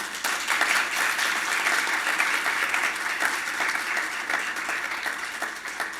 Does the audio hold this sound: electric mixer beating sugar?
no